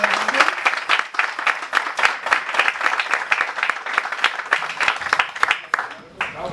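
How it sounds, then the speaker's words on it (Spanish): Audience at a local election candidate presentation clapping in a loose, uneven rhythm for several seconds, moderately near and loud, tapering off toward the end. "Un aplauso."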